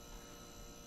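Steady air conditioner hum in the horror game Inside the Backrooms, a constant low drone with broadband noise filling the short stretch without pause.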